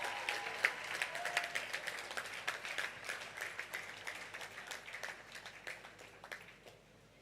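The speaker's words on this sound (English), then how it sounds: "A round of applause." Applause at a Nigerian policy forum sounds from a modest crowd, a fairly quiet, distant patter of claps with some distinct individual hand slaps that gradually thins out toward the end.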